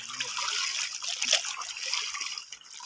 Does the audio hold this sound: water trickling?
yes